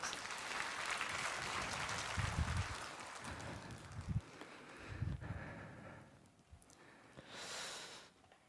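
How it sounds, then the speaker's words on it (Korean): A church congregation at a Sunday worship service applauds, with scattered clapping that swells in a few short bursts and stays fairly faint, fading toward the end. "수고하신 우리 베드로에게 박수 부탁합니다."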